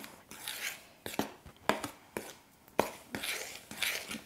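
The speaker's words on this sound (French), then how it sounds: "on peut mélanger la farine" Flour and colored chalk are worked together into moon sand, with short scraping and rubbing strokes in a rough, irregular rhythm, close and soft, with no talking.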